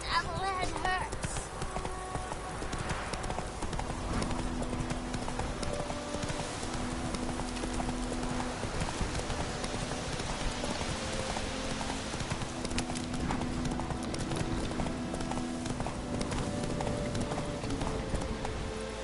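Roach, Geralt's horse in The Witcher 3: Wild Hunt, gallops at a steady clip, hooves drumming in a continuous loud rhythm over game music and ambience for the whole stretch, with a faint whinny.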